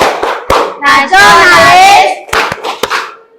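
A school class performs a rhythmic PPK clapping chant: crisp hand claps in quick patterns alternate with a long chanted word from many children's voices.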